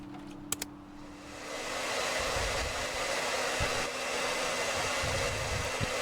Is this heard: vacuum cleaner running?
yes